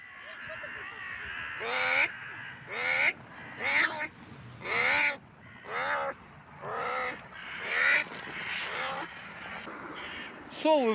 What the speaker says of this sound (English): Совы в городе ворону ловят.